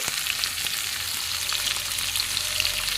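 Tomatoes fry in a pan with a steady, close sizzle and fine crackling spatter, continuous and even throughout with no talking.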